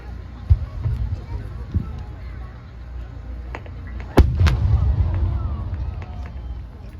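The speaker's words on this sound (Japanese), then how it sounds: "花火が上空に開いたと同時に色が変化しながら6つ" Fireworks burst over the sky at the Inagawa fireworks festival, with a couple of sharp distant bangs early on and a louder double crack midway, followed by rumbling echo under steady crowd murmur.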